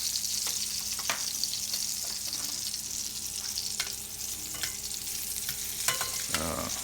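Foie gras and an egg fry in coconut oil, a soft steady sizzle with occasional sharp taps and clinks of a utensil against the pan, fairly quiet and without speech.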